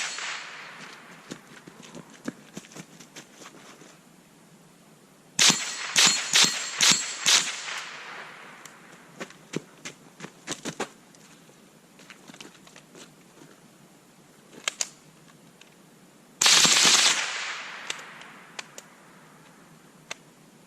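A short-barreled Ruger 10/22 with a binary trigger fired rapidly at a range target, with bursts of sharp, clustered gunshots and scattered single cracks between quieter gaps.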